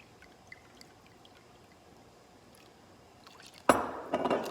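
Cheap white wine pours into a mixing bowl for a pound cake batter, a sudden loud splashing stream that starts near the end after quiet kitchen background.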